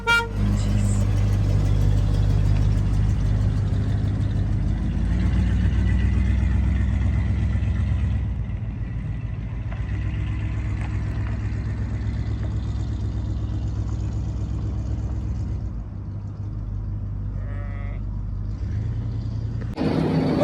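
The engine of a 1986 RV runs at a steady low rumble, close and fairly loud, with a slight drop in level partway through and a faint higher tone near the end.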